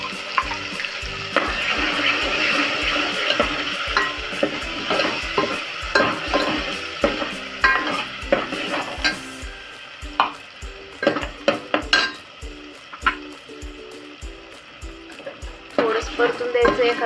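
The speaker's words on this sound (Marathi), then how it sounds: "परतून द्यायचं 1 मिनिट." Onion, coconut, coriander and green chilli masala paste frying in hot oil with curry leaves, a steady sizzle broken by repeated scraping stirs of a spoon against the pan, close up, with a voice speaking now and then.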